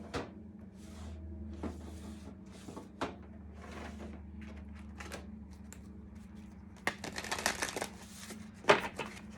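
A deck of oracle cards is shuffled by hand in quick irregular bursts of riffling and tapping that grow louder toward the end, heard close and alone in a quiet room.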